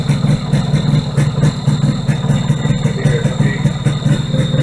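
A Yamaha RX 100 motorcycle, a two-stroke bike just started after six months unused and smoking heavily, idles at close range with a steady throbbing rumble and a faint constant buzzer whine from a low battery.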